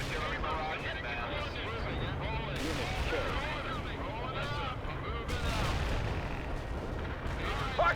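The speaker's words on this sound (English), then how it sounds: "Heavy artillery barrage inbound." Heavy artillery barrage in the World in Conflict video game, a dense, continuous rumble of distant shelling with overlapping crackling blasts that swell in waves over eight seconds, with no clear speech.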